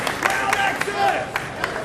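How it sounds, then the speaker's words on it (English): Clapping breaks out from the audience at a convention panel, scattered and moderately loud, mixed with crowd murmur and a few cheers while voices carry over it. "Y'all should be clapping"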